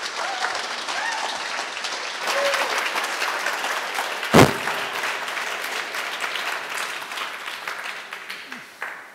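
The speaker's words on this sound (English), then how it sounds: "Let's have a big round of applause" Audience at a talk on squash and stretch for animators breaks into sustained applause, a dense wash of clapping that swells, then tapers off gradually, with a brief louder thump near the middle.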